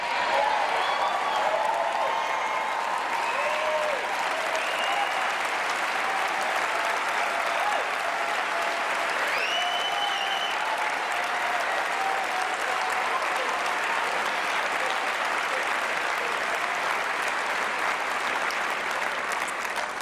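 Steady applause from a large summit audience, dense and sustained throughout, with a few voices and cheers rising above the clapping.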